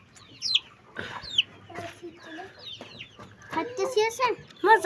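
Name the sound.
chick clucking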